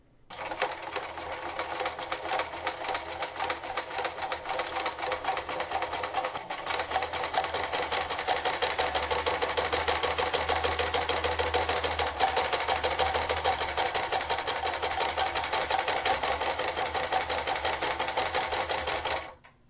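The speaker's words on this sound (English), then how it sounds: "we just go right along the line like so, and we start sewing." A sewing machine stitches along a marked line, running in a fast, steady rattling rhythm for about twenty seconds, close and fairly loud, with a brief pause near the start and no voices.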